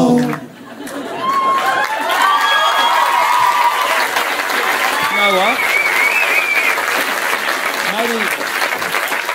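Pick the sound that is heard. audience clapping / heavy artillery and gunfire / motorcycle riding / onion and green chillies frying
audience clapping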